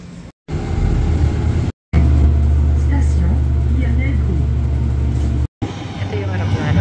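Route 747 airport bus running along, a loud steady engine rumble with road noise inside the cabin, briefly cut by short silent gaps.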